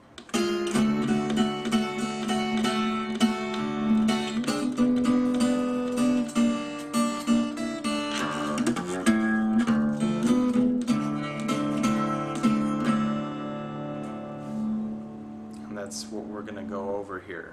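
An acoustic guitar plays the introduction to a blues song, fingerpicked notes ringing steadily and close over a sustained bass, alone with no talk.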